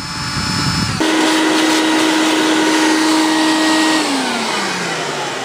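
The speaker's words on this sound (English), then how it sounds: "be sure to vacuum out anything that may have fallen down in there, especially any metal filings or whatever." Vacuum cleaner drawing metal filings out of the differential housing of a 1966 Ford Thunderbird, switching on with a loud steady roar and a high whine that winds down near the end, close and without talk.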